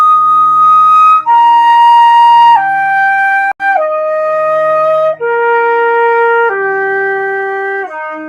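Flute plays a slow sequence of clear, sustained notes stepping down and back up, each held about a second, close and bright with brief breath breaks between phrases, no talking.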